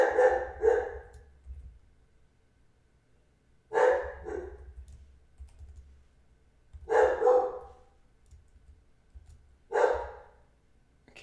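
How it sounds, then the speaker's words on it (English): A household dog barks in short bursts, four separate volleys spaced a few seconds apart, fairly close and loud against a quiet indoor background with no talk. "sorry about the dog in the background"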